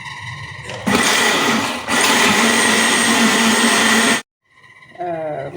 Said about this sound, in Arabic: وضربنا الزيت والسكر حتى ذاب، وضربنا البيض